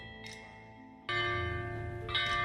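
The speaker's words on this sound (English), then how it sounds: "The bianzhong, a musical instrument consisting of a set of bronze bells" A set of bronze bianzhong bells struck in turn, each clear metallic strike ringing out with long, bright overtones that linger and overlap, a second louder stroke entering midway, with no voices present.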